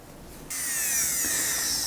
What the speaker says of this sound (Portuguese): com essa broca fresa, eu deixo a superfície já um pouco lisa, sem muitas ondulações